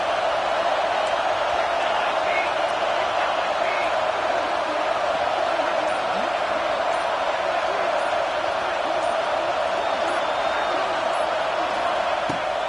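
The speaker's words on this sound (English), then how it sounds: "Fourth down, and this crowd is making it miserable on this offense." Stadium crowd in an NCAA college football video game on fourth down, a constant loud roar that holds steady throughout with no pauses.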